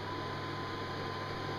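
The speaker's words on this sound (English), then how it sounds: "now what you hear there is the sound of the fan here." An air purification system fan runs on its high setting, giving a steady, even whir and hum of rushing air with no change in pitch throughout.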